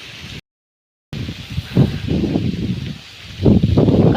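Strong wind gusting across open village fields, a close, rough rumbling roar that swells and eases in buffets, with one brief dropout to silence near the start.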